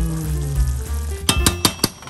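Lasagna meat sauce frying in a pan, a steady sizzle joined near the end by a few sharp clinks of utensil against the pan.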